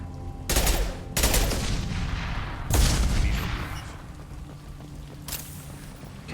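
Bursts of gunfire in the video game Mass Effect 2, several loud rapid volleys separated by short pauses, booming and close, with a lingering rumble between shots and no talking over it.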